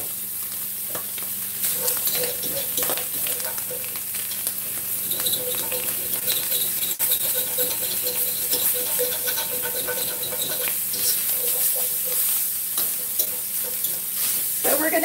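Sausage browns in a little oil in a pan with a steady, close sizzle and crackle, punctuated by scraping stirs and occasional spits, continuous throughout.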